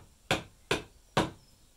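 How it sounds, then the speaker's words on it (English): Three sharp wooden knocks of a chisel being tapped into wood after bandsaw cutting of a 3D bird, evenly spaced about half a second apart, close and clear with no talk. "And then finish up with a bit of chisel work."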